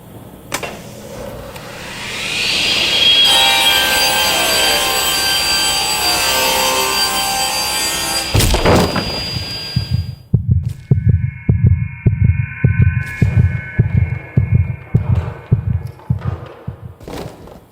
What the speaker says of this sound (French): Je vais maintenant te montrer ce qui se passe quand nous délignons du bois massif